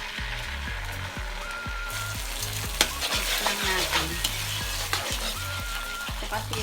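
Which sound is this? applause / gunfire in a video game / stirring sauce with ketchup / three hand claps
stirring sauce with ketchup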